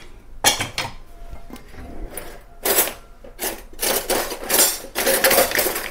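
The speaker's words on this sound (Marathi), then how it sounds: "आता हे एकदम बारीक कुटून घेऊया" Cooked dal with a little sugar pounded finely for puran poli, a series of sharp metallic thuds and clanks in irregular bursts, close and moderately loud, without talking.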